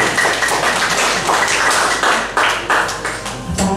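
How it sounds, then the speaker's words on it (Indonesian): An audience applauds for a priest at a scripture course, loud close clapping from many hands that rolls steadily for a few seconds before thinning out. "kita beri aplaus buat Pastor"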